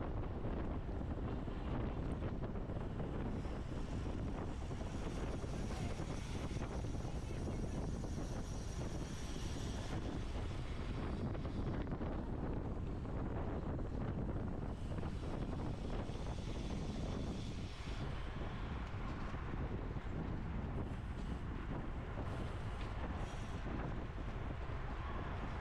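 Heavy wind buffets the microphone during a women's road bike race, a loud, unbroken roar of rushing air that holds steady from start to finish.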